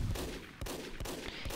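Sniper rifle fire in the video game Team Fortress 2, a few sharp, faint shots spaced roughly every half second against quiet background noise.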